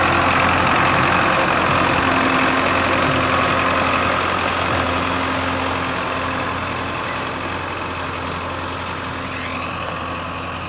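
A Belarus 510 tractor engine running during field puddling work, a loud, steady, close diesel drone with a constant throbbing hum that eases slightly in level toward the end.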